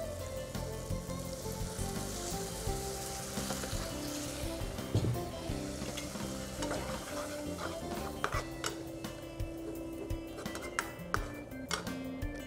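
Tomato and onion sizzle and fry in a pan after a splash of water, a steady crackling hiss with a few sharp pops and clicks near the end, close and continuous, with no speech.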